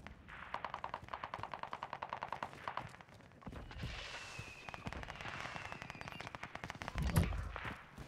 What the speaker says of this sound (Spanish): Escuchen disparos de allá